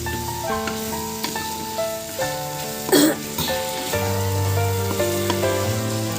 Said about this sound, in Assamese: মই এইখিনি হাই ফ্লেমত 5 মিনিট সময় ভাজি ল'ম